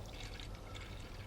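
Liquid pours steadily into a container during a Royal Institution lecture demonstration, a continuous splashing fill with no talk over it.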